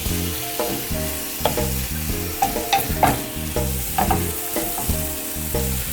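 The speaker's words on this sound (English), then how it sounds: "we're adding the beef to the mixture and we're gonna cook it for 5 more minutes with the beef" Beef sizzles with mushrooms and onions in a pan, a loud, close frying hiss broken by repeated clinks and scrapes of a utensil stirring. Low thumps recur through the cooking noise.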